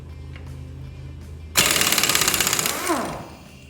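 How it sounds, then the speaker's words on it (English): A 3/4-inch impact wrench breaks loose a 24mm bolt during an engine teardown on a turbo Suburban. A loud, close burst of rapid hammering rattle lasts over a second, then winds down into a falling whir. "I got me one of them 3/4 impacts. I don't think it'll bust it without some heat."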